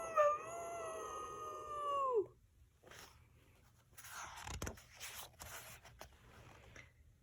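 A dog gives one loud, drawn-out howl lasting about two seconds and falling in pitch at the end, followed by quieter rustling and scuffling noises.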